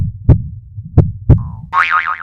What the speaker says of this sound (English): A stethoscope helps me hear your heartbeat